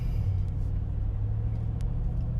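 A 2019 Mercedes G63 engine runs in comfort mode with a steady, deep low rumble heard from inside the vehicle, continuous and fairly loud throughout.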